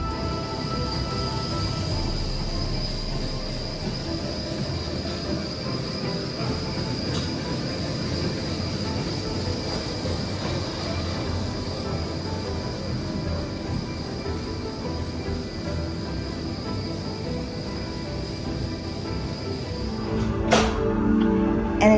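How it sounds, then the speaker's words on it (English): A Disney monorail train glides past at a deluxe resort with a steady rolling rumble and a high whine. The sound holds at a fairly even level throughout, then a sharp clatter comes near the end. "Monorail!"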